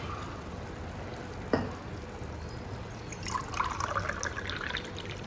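Water is poured into a pot of soaked rice for tomato rice, a soft trickling fill after a brief knock, faint and close with no speech.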